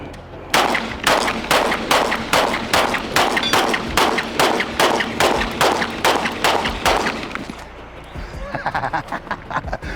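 Browning Hi-Power FN pistol fired in a rapid string of about fifteen loud, sharp cracks at a steady pace, then a few quieter, tighter shots near the end.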